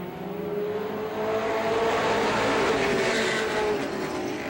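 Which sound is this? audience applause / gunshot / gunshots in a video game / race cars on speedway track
race cars on speedway track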